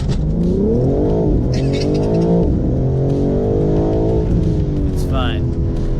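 A BMW M4 G82 with a Stage 1 chip tune launches from 0 to 100 with traction control off, its engine roaring loud and close through several rising gear pulls separated by brief drops at the shifts.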